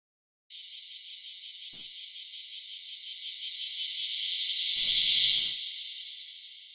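Cicadas in an anime scene, a continuous pulsing high-pitched drone that starts abruptly, slowly swells louder, then eases off, with a faint rustle partway through.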